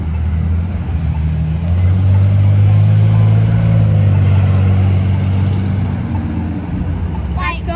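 Engines of cars and trucks idle and rumble loudly and steadily at an outdoor car show, one of them revving up and easing off partway through.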